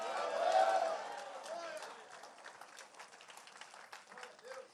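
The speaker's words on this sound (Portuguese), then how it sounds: "Fique de pé e dê um aplauso a Jesus bem forte, querido." A church congregation applauds during a worship service, a soft wash of clapping and crowd noise fading over a few seconds beneath a voice.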